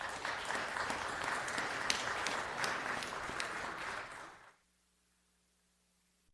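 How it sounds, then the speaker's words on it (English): Applause fills a city council meeting chamber, dense and sustained for about four seconds before cutting off abruptly into near silence. "let's give him one more round of applause"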